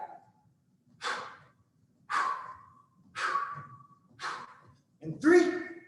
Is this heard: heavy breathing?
yes